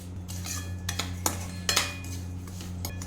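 A spoon clinks and scrapes against a pan as sugar is stirred into roasted semolina for mango sheera, with several sharp metallic taps spread irregularly over a quiet background.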